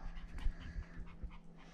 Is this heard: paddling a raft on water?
no